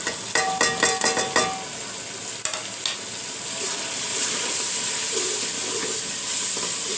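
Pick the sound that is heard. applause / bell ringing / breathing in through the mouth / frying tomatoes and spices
frying tomatoes and spices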